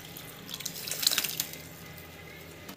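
Tamarind water is poured into a cooking pan with a light, close splashing and trickling that swells briefly in the middle and then settles into a soft liquid hiss.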